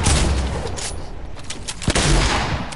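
Gunfire in a video game, a dense, loud stream of shots with a sharper crack near the end and no talk.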